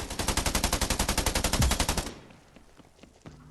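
Rapid automatic gunfire from the battle royale game Scarfall on its Mumbai map, a loud, close, evenly spaced burst of about two seconds that cuts off into quiet game ambience.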